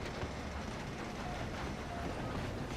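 A moving train in Red Dead Redemption 2 rumbles steadily, with a dense, even roar and faint clatter throughout.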